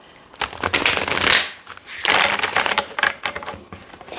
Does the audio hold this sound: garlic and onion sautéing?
no